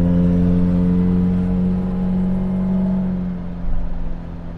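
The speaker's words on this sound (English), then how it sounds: "Into second, into third, into fourth, and we're not even at 30 miles an hour yet." A Morris Nomad, an 1100/1300 station wagon, accelerates through the gears with a steady mid-pitched engine drone. The drone eases off and then rises again near the end, heard from inside the car.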